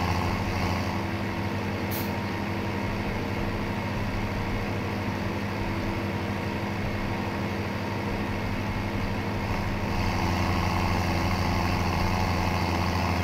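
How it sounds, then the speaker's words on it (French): Farming Simulator 17 tractor driving, its steady low engine drone running continuously throughout with a brief higher hiss near the start, with no talk over it. "Avec notre tracteur qui est maintenant vide, je vais aller ranger la remorque"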